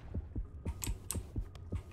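A rhythmic low heartbeat thumps steadily, about three beats a second, signalling an approaching shark in the video game Depth, under lighter clicking and tapping sounds, no talking.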